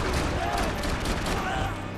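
Dense, continuous gunfire in the Max Payne 3 video game, loud rattling shots packed together during a graveyard standoff, with a voice faintly underneath.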